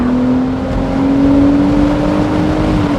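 A BMW Z4 M40i engine drones loudly and steadily with a sustained tonal whine, rising slightly in pitch as it revs on a downshift to second gear, heard from inside the car.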